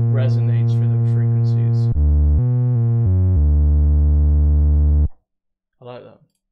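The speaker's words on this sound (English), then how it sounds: "It's a good type of distortion to the bass." Distorted synth bass from the free Martinic Kee Bass VST plugin, playing a few sustained, harmonically rich low notes that step in pitch for about five seconds, followed by a short breathy noise after a pause.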